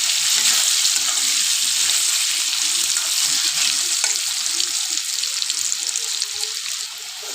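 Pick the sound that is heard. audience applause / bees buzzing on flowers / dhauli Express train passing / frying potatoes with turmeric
frying potatoes with turmeric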